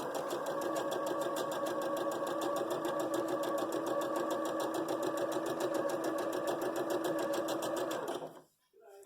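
A sewing machine stitches quilt fabric in one continuous, even run of fast, close mechanical clatter that stops abruptly near the end.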